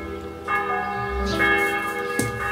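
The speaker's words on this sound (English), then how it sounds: "Yes, ring the bells" Church bells ring in layered, overlapping peals with long sustained tones, steady and fairly loud, strikes arriving every second or so with no speech over them.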